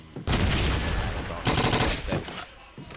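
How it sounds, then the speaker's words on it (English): Gunshots ring out during a competitive video game match as two or three loud, sustained bursts of rapid fire separated by short pauses, with a commentator's voice partly mixed in. "firing up a couple of bullets just to see if he catches any of that"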